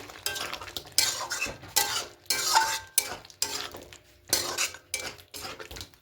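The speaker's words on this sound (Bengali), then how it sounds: "এবার এখানে গরম মশলা পাউডার দিয়ে দেবো খুব ভালো করে মিশিয়ে নেবো" Chicken cooked without oil is stirred with garam masala powder in a pan, a metal spoon scraping and clanking in rhythmic strokes against the pan with soft sizzling beneath, no voices.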